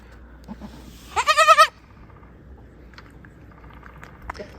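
A newborn baby goat gives a short burst of close, quavering bleats in the middle of an otherwise quiet stretch, with faint rustling and small movement sounds around it.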